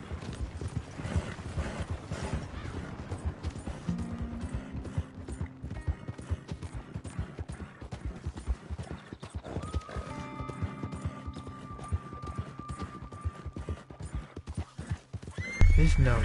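Hooves clip-clop in a quick steady rhythm while a horse neighs in Red Dead Redemption 2, with mechanical clicks and a voice talking over the galloping.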